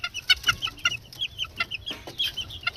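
A Battle Cross rooster, an SDR cross, clucks in quick repeated bursts at close range, fairly soft, with other fowl in a backyard farm and no talk.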